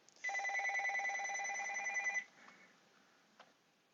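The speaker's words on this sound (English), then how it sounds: "we had a few phone calls in there" A telephone rings once with a steady electronic warble lasting about two seconds, fairly faint and alone in a quiet room, followed by a couple of small clicks.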